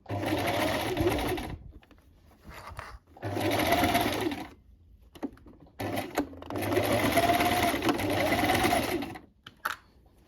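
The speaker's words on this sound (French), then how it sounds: "je vais faire plusieurs coutures de renfort également" A sewing machine stitches reinforcement seams on a women's top, running in three long loud buzzing bursts with short pauses between them, close by and with no talking.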